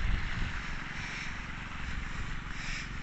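Simple pipe-built suction pump engine at a dry-season land tin mine, running steadily close by as a loud, continuous low drone with a rough mechanical chatter.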